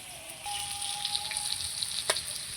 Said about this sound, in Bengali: কাঁঠালটা ভাজা হোক।